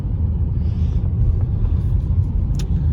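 A Peugeot 408 sedan engine drones as a low, steady rumble from inside the cabin while driving, with road noise and no talking.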